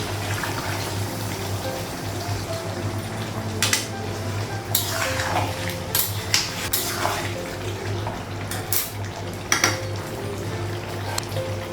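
Kitchen pot and lid clattering with scattered metallic clinks and a brief pour of water, close by over a steady low hum, while a ghugni curry cooks at home.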